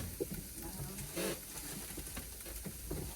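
Onions sauté in a Ninja Speedi cooker for a frittata, producing a soft, continuous sizzle with occasional stirring sounds, fairly quiet and close.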